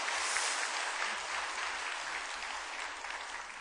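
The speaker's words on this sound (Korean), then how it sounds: "지금 호명하신 분 잠시 일어나 주시면 우리가 박수로 환영하겠습니다." A church congregation applauds to welcome newcomers during a Sunday service, a dense steady wash of many hands clapping at once, moderately loud and sustained for a few seconds with no speech.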